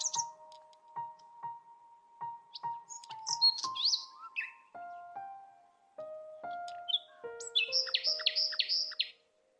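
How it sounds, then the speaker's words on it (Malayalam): Birds chirp and tweet beside a river in a series of short repeated calls, some clean single notes and others fast trilling phrases, fairly close and clear with no talking. "കിളികളുടെ ശബ്ദം കേട്ടാ നിങ്ങള്?"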